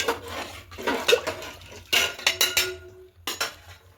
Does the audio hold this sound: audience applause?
no